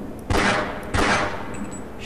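Gunshots in the video game Half-Life: two loud, close blasts about half a second apart, each ringing out briefly, with quiet background between them.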